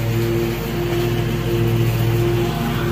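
Lawnmower engine droning steadily and loudly nearby outdoors, a constant rough motor hum with no breaks, no speech heard.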